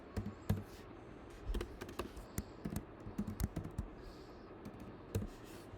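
Someone types Java code on a computer keyboard: a quiet, close stream of irregular key clicks with brief pauses and a few sharper taps, and no talking.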